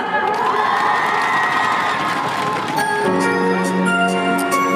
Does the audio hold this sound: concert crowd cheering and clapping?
yes